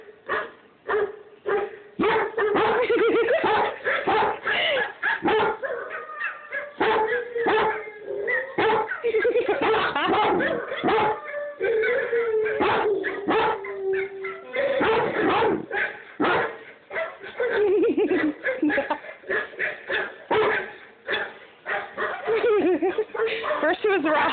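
Dogs bark in sharp yips and whimper close by in repeated bursts across the stretch, while people talk over and between the barks.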